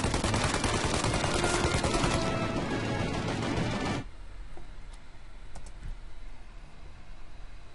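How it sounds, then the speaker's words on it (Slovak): Dense gunfire in the video game Mafia: Definitive Edition rattles continuously as rapid, loud bursts that fill the first half, then thin out to sporadic shots over a quieter rumbling backdrop. "keď strieľajú po mne, strieľam po nich"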